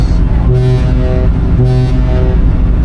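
A passenger ship's deep horn sounds three short, steady blasts signalling departure over a constant roar of engine and wind.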